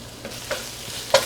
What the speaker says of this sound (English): Now I'm going to toss it around until my onions get slightly translucent.